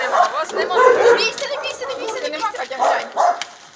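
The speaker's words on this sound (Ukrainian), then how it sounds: "Трирічного пса Рокі щеплюють біля двору" A three-year-old dog barks in short bursts while receiving a rabies vaccination beside a house yard, with people talking over it.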